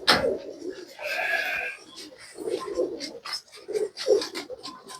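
Teddy pigeons cooing in a series of soft, low throaty pulses at close range, with a voice speaking intermittently over the calls.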